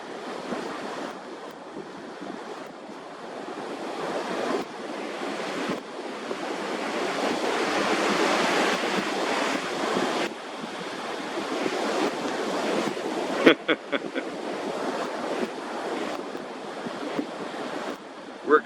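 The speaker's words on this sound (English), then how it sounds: "I'm at the Cherry Grove fishing pier right now. Wind is coming from my back northeast at about 5 miles an hour right now." Ocean surf rolls in beneath the Cherry Grove fishing pier at Myrtle Beach, with steady wind buffeting the microphone. A continuous wash of waves swells and fades, and a few faint knocks come through near the end.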